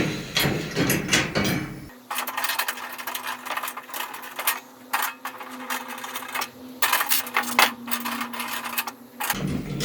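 Small metal nuts and bolts handled and clinked by hand while assembling a festival trolley or garden cart, with rapid close tapping and clicking clusters, a steady faint hum underneath, and brief noisier bursts at the start and end.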